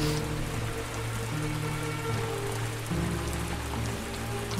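Steady rain falls in the video game Silence of the Sleep, a constant hiss with low sustained ambient drones under it and no talking.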